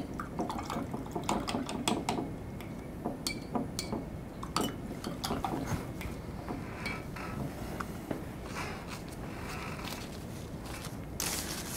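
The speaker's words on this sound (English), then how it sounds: "Okay, now I'm gonna rinse my brush." A 3/4-inch flat paintbrush is swished and rinsed in a water container, with quiet irregular sloshes, drips and light clinks against the rim, close by and with no talk.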